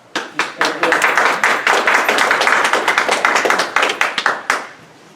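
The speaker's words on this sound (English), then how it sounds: "could you please hold your applause to the end" Audience applause breaks out at a village trustee forum in Park Forest, a sustained burst of many hands clapping in a hall for about four seconds before tapering off to a few last claps.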